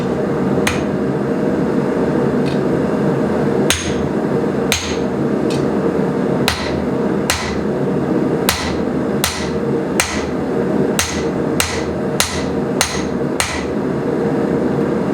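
Sharp metallic hammer strikes ring out steadily, about a dozen blows, speeding up toward the end, over a constant mechanical hum, as a hammer strikes a blacksmith's set hammer forged from a jackhammer bit.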